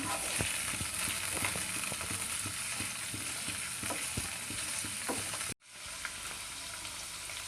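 Aloe vera cooks with pounded spices for a pickle in a pan, a steady close sizzle broken by scraping stirs and clinks of the spoon, briefly cutting out before the frying resumes.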